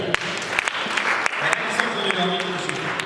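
A church congregation claps in acclamation, steady applause filling the space with a few sharper claps standing out, while a voice speaks over it.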